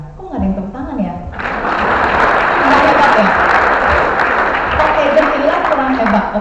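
Audience applause at a Prudential insurance agent's talk, rising after a brief stretch of speech and then holding as steady, dense clapping that fills the room to the end.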